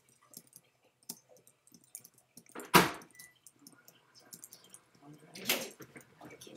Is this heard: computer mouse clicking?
yes